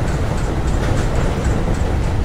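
A train running on the main line of an Indian Central Railway route in Train Simulator, a steady close rumble of wheels and carriages rolling along at speed with no pauses.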